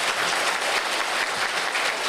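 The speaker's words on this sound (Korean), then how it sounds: "큰 박수 한번 보내주시기 바랍니다" An audience at a residents' briefing session on ending a building contract applauds. The clapping is loud, dense and unbroken, filling the room for the whole moment with no voices on top.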